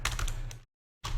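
Computer keyboard typing, a short run of close, crisp key clicks that stops dead for a moment and then starts again.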